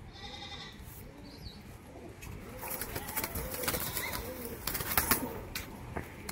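Pet mukhi pigeons, a pair kept for sale, coo softly in low repeated throaty calls, with bleating and rustling noises joining in and getting busier toward the end; no speech.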